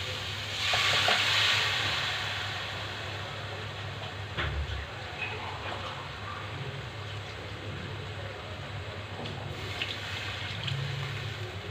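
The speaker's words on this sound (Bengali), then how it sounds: "মশলা ভালো করে কষানো হয়েছে এখন জল দিয়ে দেবো" Water poured into fried spice masala in a pan for a koi fish and tomato curry, a loud burst of hissing and sizzling near the start that settles into a steady bubbling fry.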